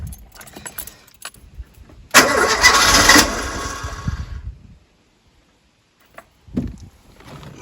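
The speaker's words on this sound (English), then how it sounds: "go and give the car a little start and make sure it does start" A 1980 Volvo 345 engine cranks and briefly catches after ignition work, keys rattling first, then a loud cranking burst of about two seconds that fades and stops, followed by a short click.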